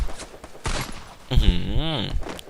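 Shotgun blasts from the Free Fire battle-royale game, a few sharp heavy booms with ringing tails, the last ones louder and close, amid energetic game sound.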